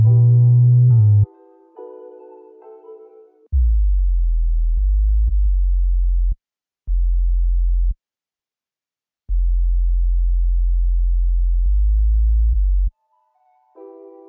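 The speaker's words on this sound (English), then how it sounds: "You can hear the glide effect better if you use your MIDI keyboard." An 808-style bass synth patch built in Retrologue 2 in Cubase plays clean, pure tones: a few higher notes, then deep sustained bass notes with short gaps and sliding glide between pitches, ending on a brief higher phrase.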